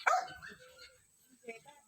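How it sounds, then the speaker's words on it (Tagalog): A dog barks once, close and loud, during a house visit to deliver holiday rice and groceries, then gives a fainter second yip as someone speaks. "Ay, may aso."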